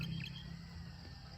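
Faint bird chirps carry over a quiet rural background in Catigan, Davao, a few brief high calls near the start and another around the middle, distant and soft.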